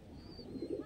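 A Madrasi pigeon gives a short, soft coo that swells at the end, faint and close against a quiet background with no talking.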